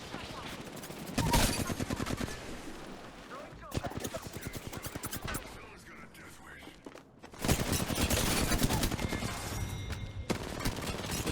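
Bursts of automatic gunfire and rapid shots from a battle in the video game Apex Legends, coming in several loud volleys with brief quieter gaps and faint movement between them.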